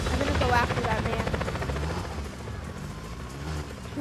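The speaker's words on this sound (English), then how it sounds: "Helicopter inbound. Heading to AO." Helicopter in the Just Cause 4 video game, a loud steady rotor thump and engine drone with rhythmic low pulsing that fades slightly, mixed with game audio and speech.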